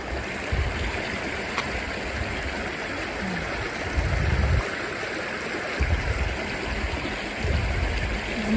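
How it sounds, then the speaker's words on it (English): A creek flowing steadily below a bridge: a continuous broadband rush of moving water with gentle gurgling swells, constant in level and free of voices. "Here's a nice view of the creek. Nice sound too."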